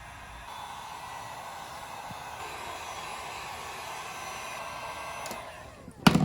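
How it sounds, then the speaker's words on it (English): Heat gun warming decals on a Yamaha YZ450F dirt bike, a steady close airy blowing roar held for several seconds, ending with a brief clatter. "you're just going to hit the whole thing with heat"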